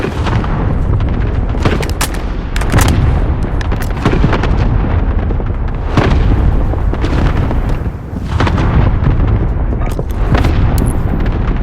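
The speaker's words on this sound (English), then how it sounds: "Good copy. Cluster strike away." Cluster strike from Call of Duty: Warzone, Season 4: a dense, loud barrage of overlapping explosions and booming blasts rolling almost continuously, with sharper bursts standing out at intervals.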